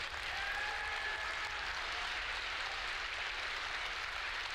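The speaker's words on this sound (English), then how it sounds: "another round of applause for our volunteers" Audience applause rings out for event volunteers, a steady, dense wash of clapping hands that holds at an even level for the full duration with no voices on top.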